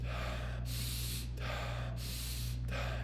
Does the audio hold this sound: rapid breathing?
yes